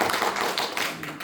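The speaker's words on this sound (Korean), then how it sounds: "논문까지 있어요. 박수 한번 주시죠." A seminar audience applauds in a brief, dense patter of many hands, loud and close, lasting only about a second.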